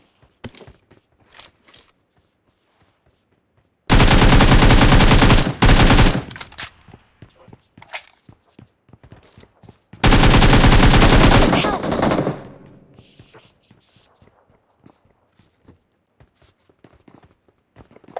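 PUBG video game gunfire: two long, loud bursts of rapid automatic fire, separated and followed by quieter scattered clicks and footsteps.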